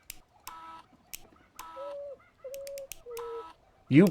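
A video-game bird gives several short, tonal chirping calls and bright clicks in a sparse, evenly spaced pattern, ending in one louder squawk.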